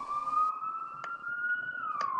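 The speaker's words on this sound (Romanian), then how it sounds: "Pentru mine e ceva normal să treacă câte o ambulanță" Ambulance siren in the Roblox game Car Wash Tycoon, a steady loud wailing tone that holds then drops in pitch as it passes, with faint background game noise.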